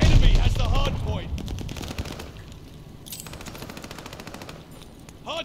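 Bursts of automatic gunfire in Call of Duty: Vanguard ranked multiplayer on a hardpoint objective, loud rapid shots mixed with game announcer voices and effects, fading to sparser firing.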